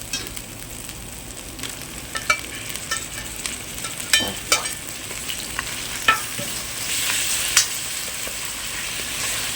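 Tomatoes sautéing with ginger and garlic in a pan for chicken chukka, a steady close sizzle with occasional spatula scrapes and taps against the pan, with the hiss growing slightly toward the end.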